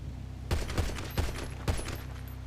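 A handful of sharp video-game gunshots crack out in an uneven burst of four or five, loud and close over a low steady background hum, with no talking.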